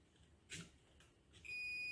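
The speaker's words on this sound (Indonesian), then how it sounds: "Nah, ada suaranya kan, bip. Dia terhubung." A multimeter gives a continuity beep while testing connections inside a classic Marantz amplifier. Faint probe taps come first, then the steady high-pitched tone sounds near the end.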